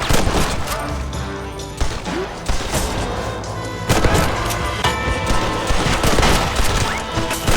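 Dense gunfire volleys in a Western shootout from the video game Red Dead Redemption, layered over a busy, loud game soundscape that runs continuously with bursts of shots throughout.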